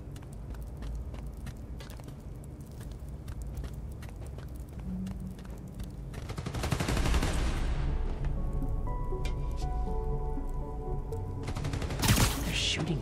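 Rapid video-game gunfire from Spider-Man: Miles Morales crackles in a dense, steady barrage, thickening midway through and peaking near the end, with game music and effects beneath and no talk.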